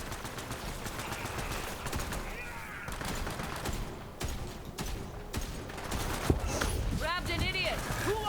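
Sniper rifle fire and other gunshots ring out in the Borderlands video game, a string of sharp cracks over dense, continuous combat noise, with one especially loud shot standing out near the end.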